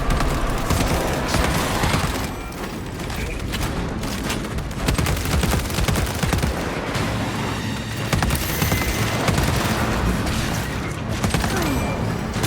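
Dense, continuous gunfire from Warhammer 40,000: Space Marine 2 as the squad focuses fire on a Neurothrope, rapid overlapping shots and booms filling the whole span at close range.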